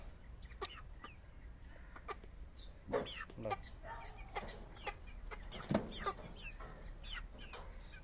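Giriraja chickens cluck in short, scattered bursts throughout, with a brief spoken word partway through and a low steady background hum.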